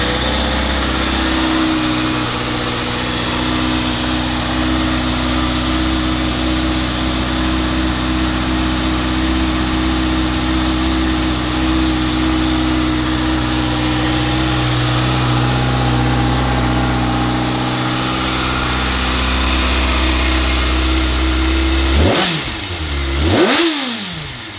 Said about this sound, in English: Let's fire it up and listen how she sounds.